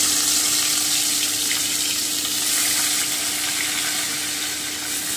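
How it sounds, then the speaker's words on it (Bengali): Koi fish fry in hot oil in a kadai over lowered heat, giving a dense, steady crackling sizzle up close with an even, watery hiss and no voices. "আমি মাছটা এবারে ভেজে নেব"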